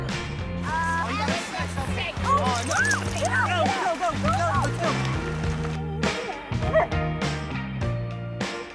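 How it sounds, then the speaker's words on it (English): A pet dog yips and bow-wows in short bursts over a music bed, close and fairly loud, with people chatting and praising the dog nearby. "You got a dog."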